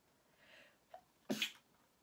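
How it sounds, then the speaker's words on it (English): A single sharp sneeze comes after a short quick inhale, close and abrupt against a quiet background. "I need to sneeze."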